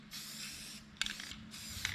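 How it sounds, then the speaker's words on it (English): Two bursts of black spray paint hiss from an aerosol can onto barnwood, each lasting about three-quarters of a second, close by, with a faint rattle between them. "And with barnwood, black spray paint is your friend."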